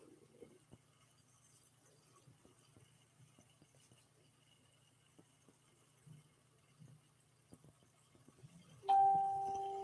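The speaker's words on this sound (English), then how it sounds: "That was my phone saying bing." A phone notification chime sounds near the end, a bright single bing with a sustained tonal ring that rises sharply above a quiet room with faint shuffling during an evening crafting session.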